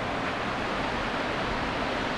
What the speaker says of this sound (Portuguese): Olha a altura que cai essa água